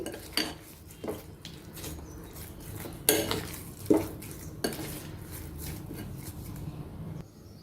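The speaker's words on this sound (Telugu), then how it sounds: "ఇప్పుడు ఇదంతా బాగా మిక్స్ చేసేసుకోవాలి" Rava and curd batter is stirred in a bowl, a spoon scraping and clacking against the sides in an uneven rhythm of close, distinct knocks over a steady background.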